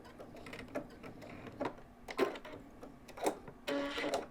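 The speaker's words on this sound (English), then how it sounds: "So I lock my stitches" Sewing machine stitching quilt binding, several short mechanical whirring bursts separated by pauses while locking stitches, close and fairly quiet.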